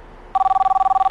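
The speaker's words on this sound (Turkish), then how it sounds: "Telefonim." A mobile phone rings with a steady electronic tone pulsing in rapid, even bursts, loud and close, starting abruptly after a moment of quiet room noise with no talking over it.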